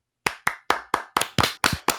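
Eight sharp, evenly spaced claps for a birthday, close and crisp, after a brief moment of silence.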